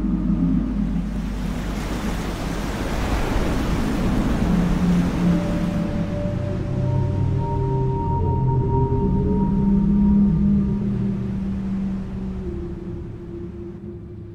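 Roaring whirlpool water at high tide in a strait: a loud, continuous rushing surge with a deep rumble, swelling slightly toward the middle, and steady tonal drones underneath.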